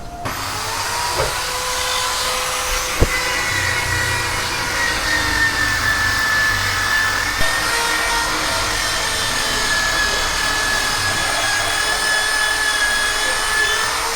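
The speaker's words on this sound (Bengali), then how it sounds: "রিংটা পালিশ করিয়ে তারপর চাকাটা আমরা লাগাবো" A power tool polishes a worn motorcycle wheel rim from a Yamaha R15 in a workshop. It gives a loud, steady, continuous grinding whine with a faint high tone, and a couple of small knocks break through.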